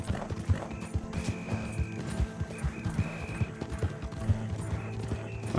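Rhythmic hoofbeats of a video game horse galloping at a steady pace, fairly close, with brief higher tonal cries mixed in and no voices.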